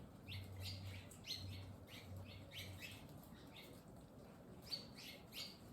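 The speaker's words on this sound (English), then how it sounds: "More than likely hear the birds flying around." Faint, repeated bursts of birds flapping wings and chirping inside a quiet cave, recurring every half second or so over a low hum.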